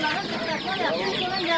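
Chicks and chickens clucking and cheeping together at a poultry bazaar where coloured chicks and ducks are sold, a continuous dense chatter of overlapping bird calls at close range.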